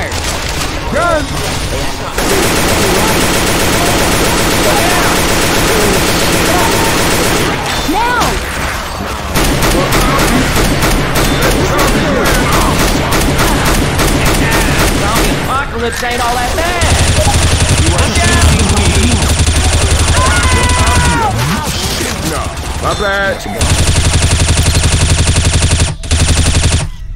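Constant automatic and rapid gunfire in Left 4 Dead 2, loud and close, with brief pauses between bursts and a denser barrage near the end.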